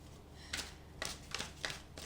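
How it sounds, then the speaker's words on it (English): Tarot cards shuffled close by in a quiet room, four or five quick crisp riffling bursts spaced about half a second apart, soft and with no talking. "One more shuffle."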